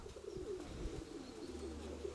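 Soft, low cooing of pigeons repeats faintly against a quiet background, with wind blowing before rain.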